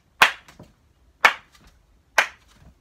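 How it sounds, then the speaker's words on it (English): Three sharp, loud hand claps spaced about a second apart during an at-home dance routine, close and crisp, each followed by faint footfall thuds in otherwise quiet surroundings. "We're gonna start with boogie back first we clap, and we jump four times"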